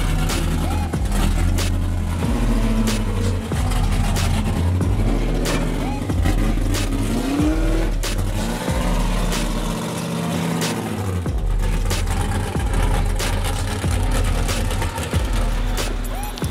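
LS V8 engine in a Mazda RX-7 FD pro-am drift car, a loud rumbling idle with revving pulses, heard under people talking.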